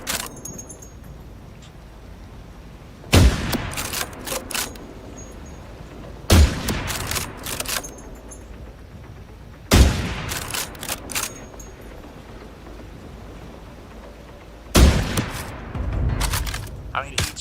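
Gunfire in the video game The Last Caretaker comes in four separate bursts of sharp, loud shots with rattling metallic clatter, spaced a few seconds apart over a quiet background.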